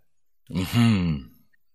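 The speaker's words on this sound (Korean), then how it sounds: "선비는 큰 소리로 헛기침만 했다." A poor scholar sitting in a freezing room gives a single loud, gruff throat clearing, close and alone in silence.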